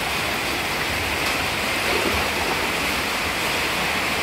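Floodwater rushes across a highway during a typhoon, a steady broadband wash of flowing water that stays even and close for the whole stretch with no pauses.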